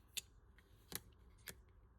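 Small scissors snip washi tape for tiny cards in three crisp, quiet cuts spaced out over two seconds, with faint room noise between them.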